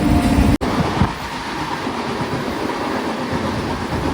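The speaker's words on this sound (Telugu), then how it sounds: "మన సంఘమిత్ర ఎక్స్ప్రెస్ ట్రైన్ అయితే వచ్చేసింది" The Sanghamitra Express, a superfast train from SMVT Bengaluru to Danapur hauled by a locomotive, rumbles steadily past with a continuous rolling roar and faint rhythmic clatter of wheels over rail joints after a brief sharp dropout.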